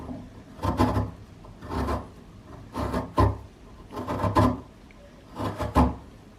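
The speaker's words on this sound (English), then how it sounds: "So by this we will grate the coconut." Coconut being scraped on a hand coconut grater, five rhythmic rasping strokes at close range, each a short scratchy burst with brief pauses between.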